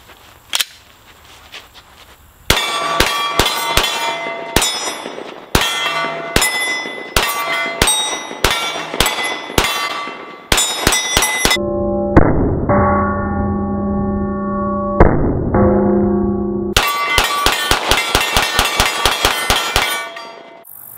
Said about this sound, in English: First rounds ever through my Glock 17 Gen 5